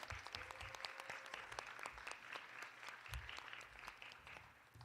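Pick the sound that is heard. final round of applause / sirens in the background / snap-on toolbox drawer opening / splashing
final round of applause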